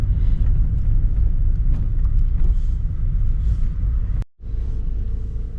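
A car travels along a road early in the morning, its interior filled with a steady low rumble of engine and tyres, briefly cut by a sharp click and a moment of near silence before the drone resumes.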